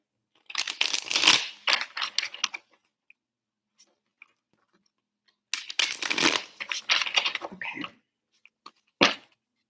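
A deck of tarot cards is shuffled in two bursts of rapid riffling and slapping, each lasting about two seconds, separated by a near-silent pause with a few faint clicks.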